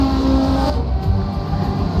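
Vintage race cars at Sears Point charging into the final corner, a loud close engine howl that drops in pitch as they brake and pass, with a hint of tire scrub.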